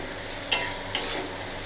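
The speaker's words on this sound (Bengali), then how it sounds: "এবার এটাকে ভালো করে কষিয়ে নেব" Spices being stir-fried in a pan for vegetarian shukto, a steady soft sizzle with two brief scraping stirs of a utensil, close and fairly quiet, no talking.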